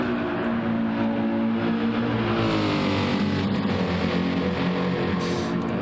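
LMGT3 race car in a racing game pulling out of the Porsche Curves at Le Mans, a loud steady engine drone with rising harmonic sweeps as it accelerates, continuous and close throughout.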